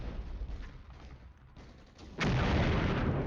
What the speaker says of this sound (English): they are responding with shelling. That's enemy barrage on center of Trossingen